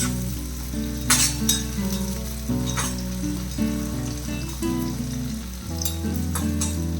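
Bitter gourd pieces fry in oil over a medium flame, a steady close sizzle with a few sharper crackles and stirring bursts. No voices are present.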